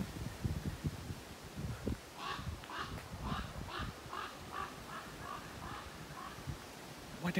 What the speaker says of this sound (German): Boah, der war aber jetzt gerade ganz nah, der Vogel.